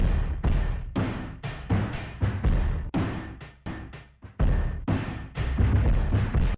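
A Travis Barker-inspired drum break pushed through pedal distortion, with kick and snare hits blurred into a dense, crunchy, continuous roar, loud and close.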